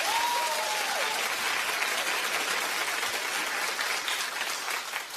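A studio audience claps steadily at a talk show for about five seconds. The applause is broad and even, with a brief high whistle near the start.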